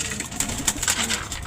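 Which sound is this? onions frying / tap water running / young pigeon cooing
young pigeon cooing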